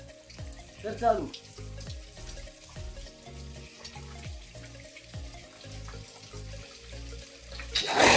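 Water pours steadily from a well pump motor that was just restarted after a plastic bottle was cleared from it. It makes a continuous broadband rush with a repeating low thumping running under it throughout.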